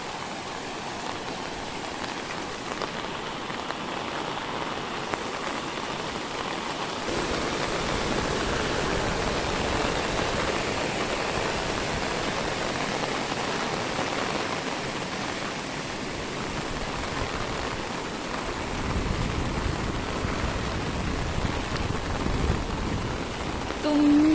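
Heavy monsoon downpour flooding the area at Khandas, a dense, steady roar of rain and rushing water that swells louder partway through and continues without a break, with no voices.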